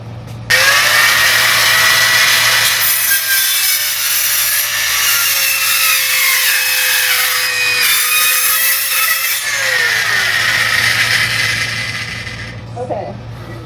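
Hand or power sawing through wood, a continuous harsh rasping cut lasting about twelve seconds with a steady rhythm and a rising tone, close by, ending as the blade finishes the cut.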